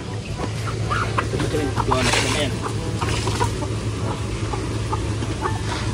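Chickens clucking and crowing around a backyard farm with fish ponds at feeding time, steady outdoor noise with repeated short calls, voices talking throughout.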